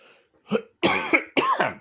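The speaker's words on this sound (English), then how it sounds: "then I'll continue to cough" Three harsh coughs in quick succession, close and loud, the first softer and the last two heavy and throaty.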